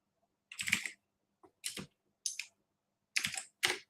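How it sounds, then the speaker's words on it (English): Keys on a mechanical keyboard clack in short bursts of quick strokes with pauses between, close and fairly quiet, with no talking. "My mechanical keyboard."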